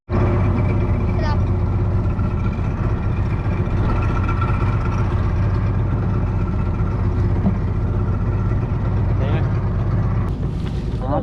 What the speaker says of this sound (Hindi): वो इंजन जो हमने स्टार्ट किया है ना